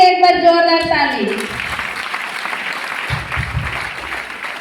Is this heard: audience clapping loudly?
yes